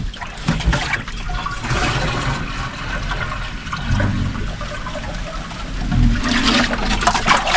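Water spills over the brim of a full container outdoors, a continuous splashing and trickling rush that stays loud and steady for several seconds, swelling again near the end.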